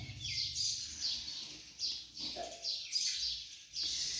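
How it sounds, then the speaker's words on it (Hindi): Small birds chirping overhead at an ashram near the Narmada river, a scatter of bright, repeated tweets in short bursts throughout, moderately near over quiet outdoor background. "देखो शिव की चिड़ियाँ भी हैं ऊपर।"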